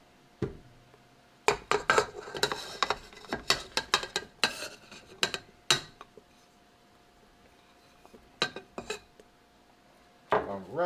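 Cold cubes of butter plunked into pie crust mixture in a bowl, a series of irregular clinks and knocks against the dish, some clustered quickly and others spaced apart, close and fairly crisp.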